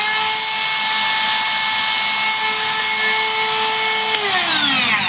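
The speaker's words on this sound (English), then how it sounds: "now you can run your Porter cable drywall cutout tool" Porter Cable drywall cutout tool running on a battery adapter, a loud, steady high-pitched motor whine with no cutting load, which winds down in pitch near the end.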